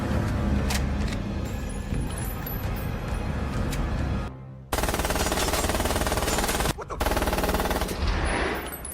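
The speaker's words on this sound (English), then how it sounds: "Bullet suddenly opens fire on him with an UMP submachine gun" Rapid submachine gun fire from a UMP in a movie action scene, loud sustained bursts with brief pauses, mixed with other gunfire and action noise.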